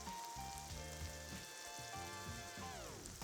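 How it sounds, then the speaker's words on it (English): Crumbled plant-based sausages fry in a little olive oil in a frying pan, giving a faint, steady sizzle and crackle that sits beneath louder tonal background music. "we can then crumble them into the frying pan with a little bit of olive oil, and we're going to fry them until they're beautifully golden brown and caramelized"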